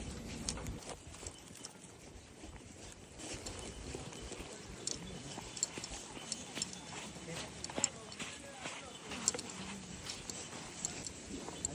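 Horse hooves clip-clop in a steady rhythm throughout a ride on a tour, with periodic sharp hoof strikes under a continuous outdoor background; people talk now and then.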